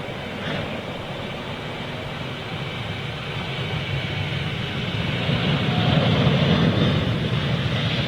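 An Air Canada Boeing Dreamliner departs Manchester Airport, its broad jet roar swelling gradually and growing louder toward the end, with no talking.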